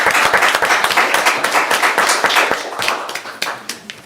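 A round of applause breaks out at a town selectmen's meeting in Brentwood, New Hampshire: a small group claps steadily and fairly close for several seconds, then the clapping thins and tapers off toward the end.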